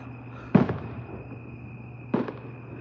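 Fireworks bursting outdoors in a residential neighborhood, two sharp crackling blasts about a second and a half apart, each trailing a short rattle over a steady background hum.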